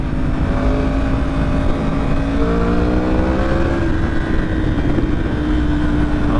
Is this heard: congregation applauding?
no